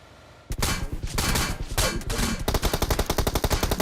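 Rapid gunfire in PUBG Mobile crackles up close, first in dense bursts, then in a steady, evenly spaced automatic rattle of sharp, loud shots with no talking.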